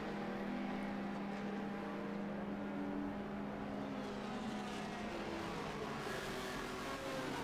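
At a Road America vintage race, a race car accelerates up through its gears in one steady, droning engine note that rises gradually. It sounds moderately distant, and no one talks over it.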